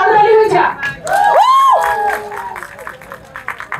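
An audience at a Mirpur cineplex claps and cheers, with loud shouts and whoops rising over the clapping before it thins into scattered claps.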